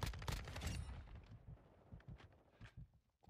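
Shotgun blasts in Modern Warfare 2 on the Shipment map, a quick cluster of sharp shots at the start, then fainter, scattered pops and footsteps.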